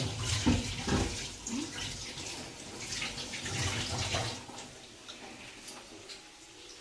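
Water runs from a tap as hands are washed, a soft irregular splashing and trickling close by, strongest early on and fading toward the end.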